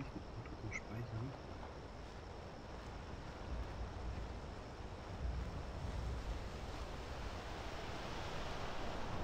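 Rushing, churning water in Skyrim roars as a continuous broadband wash, steady and moderately loud throughout, with no voices.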